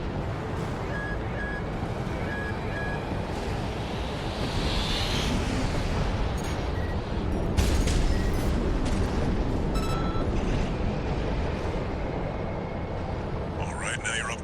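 Missile explosions and heavy combat blasts roar in a dense, continuous wash of rumbling noise during a mech battle in the video game Armored Core VI, loud and sustained with no quiet gaps.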